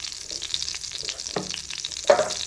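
Dry chilli, chana dal, urad dal, cumin and mustard seeds frying in a little oil for tempering, a soft close crackle with a couple of sharper pops and stirring clinks.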